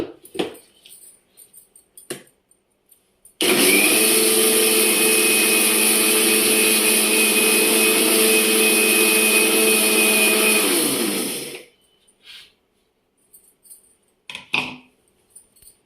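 A mixer grinder coarsely grinds black gram for sunnundalu, a loud steady whirring roar lasting about eight seconds, with brief handling clatter before and after and no talk.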